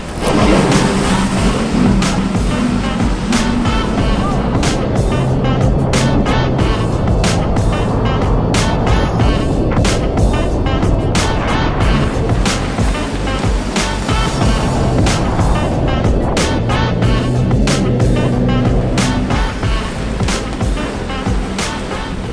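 GP1 and GP2 runabout personal watercraft race engines at a jet ski competition, loud continuous whining and droning throughout, rising and falling as the craft pass, with water spray and no speech.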